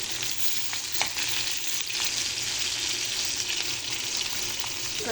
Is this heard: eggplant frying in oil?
yes